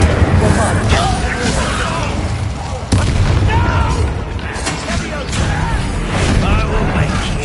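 Heavy booming blasts and bursts from spellcasting combat in a wizard video game, loud and continuous, layered over game music and background effects.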